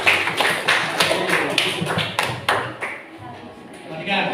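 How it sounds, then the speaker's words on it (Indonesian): Students applaud a presenting group in a classroom: steady rhythmic claps with bright taps for a few seconds, fairly loud and close, with voices mixed in. "Tepuk tangan untuk kelompok"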